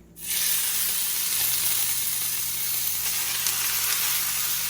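Shaved beef steak hits a hot oiled pan and bursts into a loud, dense, continuous sizzle that starts abruptly and holds steady, close up, with no voices.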